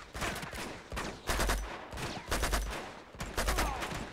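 Repeated bursts of rapid gunfire from Uncharted 2: Among Thieves crackle in clustered volleys with short gaps between them, fairly close and sharp.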